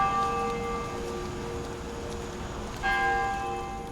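A church bell near Anastasia State Park in St Augustine, Florida, rings with a sustained, humming tone that swells again with a fresh strike near the end, heard alone against steady outdoor background.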